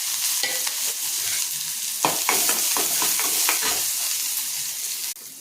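Onion sizzles in hot oil along with mustard seeds, urad dal and dried chillies for a tempering, a close, continuous frying hiss with scattered crackles and stirring scrapes, a brief drop at the very end, no voices.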